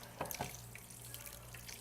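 Raw shrimp rinsed under a running kitchen tap: a soft, continuous trickle of water with a few brief splashes and clinks near the start, quiet and close, with no voices.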